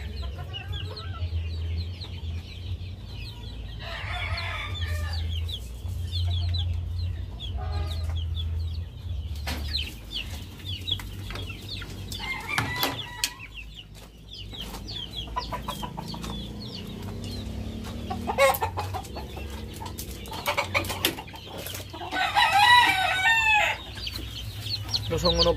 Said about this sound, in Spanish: Ahí están los pollos.